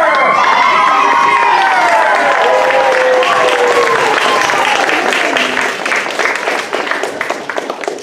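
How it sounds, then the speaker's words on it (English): Actors on stage in a summer theater production break into loud cheering and shouting, excited voices rising over clapping, then tapering off toward the end. "All actors cheer!"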